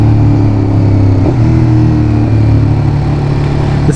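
A Ducati Monster 821 motorcycle with its stock factory exhaust runs in a loud, steady, close rumble with a throbbing low tone throughout.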